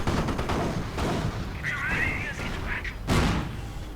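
An explosive artillery barrage pounds a Panzer IV in a video game battle, with a couple of booming impacts standing out amid the continuous clatter, all under a commentator's voice.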